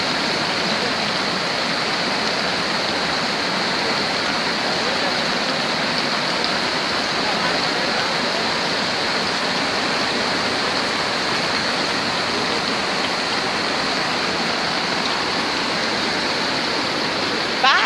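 A flooded creek rushing at street level, roaring loudly and continuously, a dense broad wash like a swollen stream pouring nearby.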